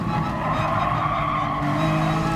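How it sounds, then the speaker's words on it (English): Tires squeal continuously as a Honda NSX Gr4 race car four-wheel drifts through a corner at Brands Hatch in Gran Turismo Sport, a loud, steady screech layered over the engine's drone. "Me four-wheel drifting through there didn't help."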